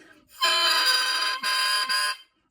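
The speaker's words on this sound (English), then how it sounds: "it certainly is a bright and vibrant crow" An oboe reed crowing on its own, a bright, buzzy, reedy tone in three sustained bursts with brief breaks between them.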